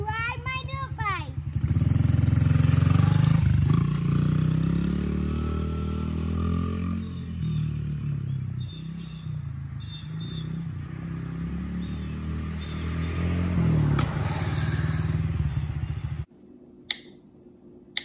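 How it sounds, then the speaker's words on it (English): A dirt bike engine revs loudly with a deep, steady roar that swells early, holds for about fifteen seconds, then cuts off abruptly, leaving a quiet background with a few faint clicks. "I want to ride my dirt bike."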